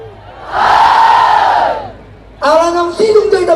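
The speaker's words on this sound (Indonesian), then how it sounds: "Boleh tepuk tangannya buat Martumba Bapak Ibu semuanya, luar biasa." A crowd at a school dance performance for a regency anniversary celebration in Balige, Toba, erupts in loud cheers and shouts, a sustained roar that dips, then bursts back with overlapping whoops and voices.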